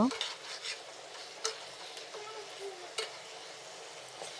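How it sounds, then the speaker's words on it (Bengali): Food gets stirred in a cooking pan over a faint sizzle, with a few sharp scrapes and taps of the utensil spaced apart, close and quiet. "ভালোভাবে নাড়াচাড়া করে দেব"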